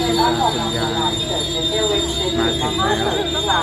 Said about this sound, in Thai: นี่ครับขบวนรถไฟก็ได้จอดสนิทแล้วนะครับ